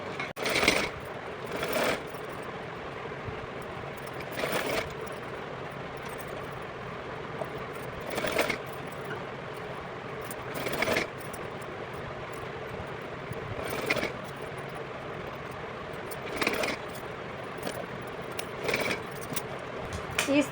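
Sewing machine stitching along the edge of a fabric strip for a small Kanha ji doll dress, running in short repeated bursts of whirring separated by pauses, fairly quiet and close.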